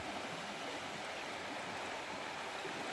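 Water of the Laagsbach stream rushes and burbles in a steady, even wash, close and continuous with no voices.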